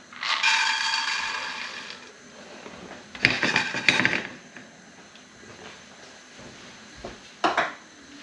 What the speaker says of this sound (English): we'll get the pan hot and in with the pine nuts